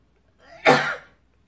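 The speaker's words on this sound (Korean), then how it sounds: "기침." A single sharp cough bursts out after a brief throat-rasp, close and loud, during home cooking in a kitchen with no talking around it.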